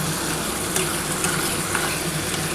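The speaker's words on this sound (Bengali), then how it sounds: "আমি একটু হালকা করেই মশলাটা কষাবো" Mustard and poppy seed masala paste, ground with a little salt, frying in a pan with a steady, close sizzle and faint crackles throughout, with no voices.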